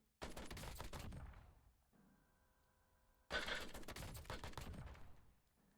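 A KV Broadside shotgun in Black Ops 3 fires in two loud, rapid bursts of blasts, separated by a short pause filled with a low electronic hum.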